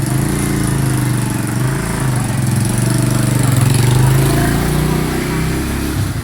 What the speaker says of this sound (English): Southeast Asian traffic scene would be complete without two-stroke motorcycles and scooters